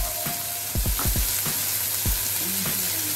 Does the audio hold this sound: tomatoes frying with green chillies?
yes